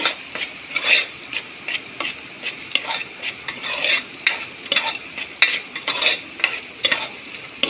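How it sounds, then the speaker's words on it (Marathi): A spoon scrapes and stirs village-style chicken in a pan as chili powder and turmeric are worked in, giving close, rhythmic scraping strokes with a light sizzle underneath and no talking. "दोन चमचे तिखट व एक चमचा हळद हे याच्यामध्ये छान मिक्स करून घेऊ"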